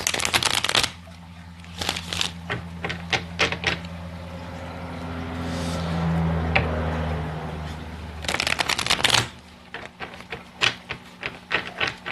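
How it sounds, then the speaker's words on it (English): Tarot cards are riffled and bridged in quick fluttering bursts, with softer handling and sliding of the deck between shuffles, close by. "I'm just going to shuffle this deck a couple more times"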